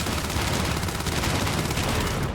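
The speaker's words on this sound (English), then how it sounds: "I found this weapon with explosive rounds" A weapon firing explosive rounds in the video game Starfield lets off a rapid, dense burst of loud shots that blur into one continuous, booming barrage.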